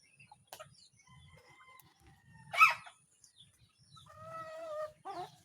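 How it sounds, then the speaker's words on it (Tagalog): Chickens cluck and squawk nearby in short scattered calls, with one louder burst and a drawn-out cackle, over a quiet background. "ito nga ating mga alagang manok"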